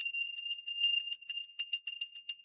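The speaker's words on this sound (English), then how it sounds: "This feels like very much a Tibetan kind of bell." A Tibetan-style hand bell rings in a quick, steady series of bright, high tinkling strikes that carry on evenly and fairly close.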